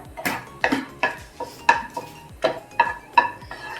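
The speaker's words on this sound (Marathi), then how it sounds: "त्याच्यामध्ये टाकतोय दोन दालचिनीचे पीसेस चार लवंगा दोन मिरी आणि दोन हिरवे वेलदोडे हे थोडेसे आपण परतून घेऊया" Cinnamon pieces, cloves, peppercorns and green cardamom get stirred in hot oil in a pan, giving a run of about eight distinct metallic scrapes and clinks from the spoon at a steady rhythm, up close and fairly loud.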